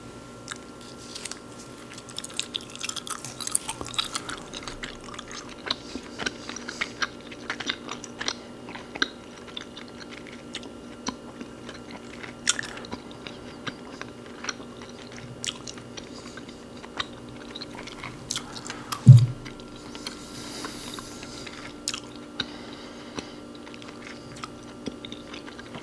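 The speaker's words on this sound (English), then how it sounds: "So I'm going to take this Airheads gum and dunk that" Airheads gum is chewed up close with soft, wet, repetitive smacks and squishes, plus occasional light clicks, and one sharper bump partway through.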